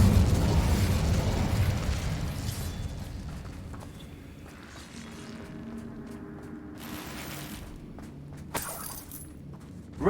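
A fire spell cast in the Hogwarts Legacy video game bursts out with a loud roaring whoosh that tapers into a quieter crackling rumble, followed by a small pop near the end.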